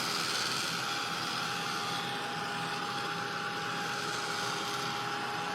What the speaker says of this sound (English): Just keep your heat tool moving.